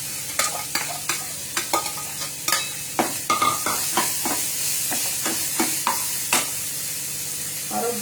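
Bitter gourd frying in a pan with chili, a steady sizzle broken by repeated scraping stirs at irregular intervals, close and clear without talk.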